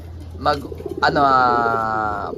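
A racing pigeon calls near the microphone, a short throaty burst followed by a longer sustained cooing note, with a person speaking faintly in the background.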